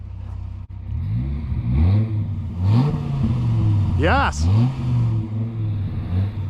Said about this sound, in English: rev it a little bit for us so we can listen to the engine